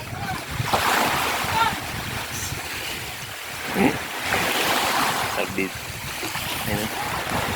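Sea waves at Tangkaan Beach in Burgos, Leyte, surf washing in and out in repeated swells with gusty wind buffeting the microphone, close and loud, while a person talks over it.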